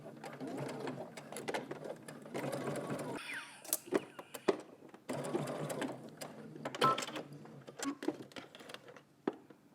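A sewing machine stitches down the folded-under end of a fabric strap in bursts of rapid, close mechanical whirring separated by short pauses and light handling clicks.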